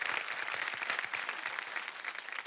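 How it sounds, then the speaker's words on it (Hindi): Fairly faint, even applause from a studio audience on a business reality show, a brief continuous patter of many hands. "लेडीज एंड जेंटलमैन, सकेत भोसले के लिए एक बार फिर तालियां हो जाए"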